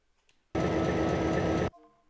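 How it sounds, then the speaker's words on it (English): A train in the BeamNG driving game gives a loud, dense rumble that starts abruptly, holds steady for about a second, then cuts off, with faint quieter sounds before and after. "There's my train."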